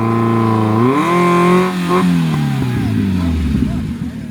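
Lifted Mazda Miata engine revving hard with a rising harmonic whine, then a sharp clutch kick and lurch into strained, rough engine load, with people talking over it nearby.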